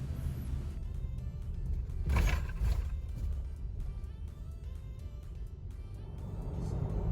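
Inside a 2023 Isuzu MU-X SUV with a 1.9 engine, a steady low engine and road hum carries on at cruising speed, swelling briefly for a moment before settling.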